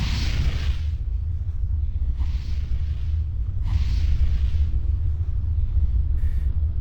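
Fireworks burst during a ceremony in the video game Gothic 2, a few loud whooshing pops spaced a second or two apart over a deep, constant rumbling background.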